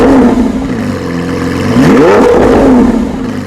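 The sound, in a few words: Lamborghini Aventador SVJ exhaust revving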